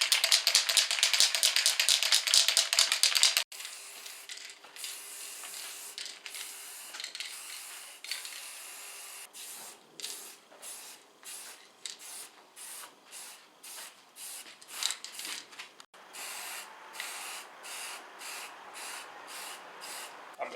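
Spray can applying paint to a Porsche 944 shock absorber part: a loud continuous hiss opens the clip, followed by a long run of short, uneven spray bursts and soft rubbing sounds at close range, with no talking.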